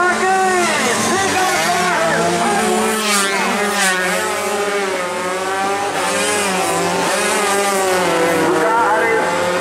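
125cc underbone motorcycles race flat out on an open public road in Karanganyar, their high-revving engines rising and falling in a dense, continuous snarl under constant commentary.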